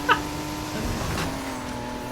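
Car braking with a brief tire skid in the racing video game Need for Speed Heat, a short squeal near the start over a steady engine drone with no talk.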